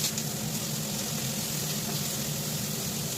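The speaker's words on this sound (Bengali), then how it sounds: "তেল গরম হয়ে গেছে, তো আমি পেঁয়াজগুলো দিয়ে দিলাম।" Onions frying in hot mustard oil in a wok, a steady loud sizzle and hiss that continues evenly without pause.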